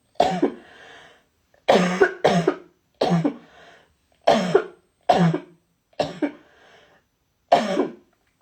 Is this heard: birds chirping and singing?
no